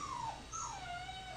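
A dog in a puppy mill whimpers in a thin, wavering, high-pitched whine, close and continuous for a brief moment with no talking.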